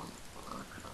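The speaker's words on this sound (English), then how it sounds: "Now we just have to kill off the rest of these pigs, and we're free of pigs." Pigs in the Minecraft Skyblock video game oinking and grunting, a faint, continuous stretch of game-animal noise with no voices.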